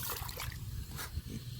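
Fresh water trickles and splashes as farm animal water containers for ducks, goats and mini pigs are refilled, close by and fairly quiet, with uneven bursts of pouring.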